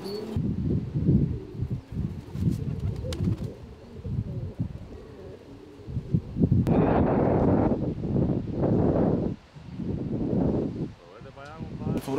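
Competition pigeons on a rooftop in Cuba coo in low, throaty bursts amid gusts of wind buffeting the microphone, with a voice speaking over parts of it.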